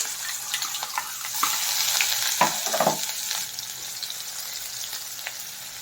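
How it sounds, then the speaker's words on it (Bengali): Chopped onion fries with cumin in hot oil, producing a close, steady sizzle with crackling bursts and a few stirring scrapes in the middle, no talk. "এই পেঁয়াজটা কুচিয়ে আর জিরের সঙ্গে হালকা করে ভেজে নিতে হবে"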